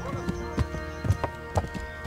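A horse's hooves clip-clop at a walk in the video game Kingdom Come Deliverance, an even rhythm of distinct thuds close by over a faint musical drone.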